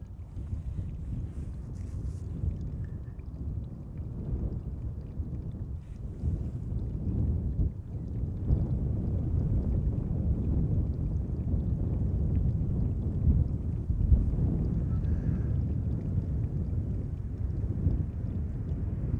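Distant, low roar of a KLM Boeing 787-10 Dreamliner arriving at Amsterdam Schiphol Airport, a faint, broad rumble that builds gradually and holds steady with wind noise over the microphone, with no voices.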